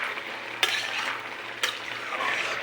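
Bottle gourd pieces fry in a pan with a low steady sizzle, broken by two sharp spatula knocks against the metal as the vegetable is turned over, close-up and without speech.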